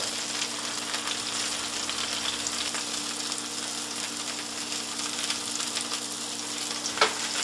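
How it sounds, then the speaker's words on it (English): Asparagus spears sizzling on a hot grill, a steady moderate crackling hiss that continues evenly throughout with a brief louder pop near the end, no talking. "while the grill's still hot, I'll go ahead and put my asparagus on there."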